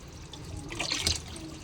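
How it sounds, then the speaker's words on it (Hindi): A water tap runs during clothes washing at home in the rainy season, a steady close splashing trickle of flowing water, a little louder toward the middle. "ये मैंने पानी ऑन कर रखा है, यहाँ पर"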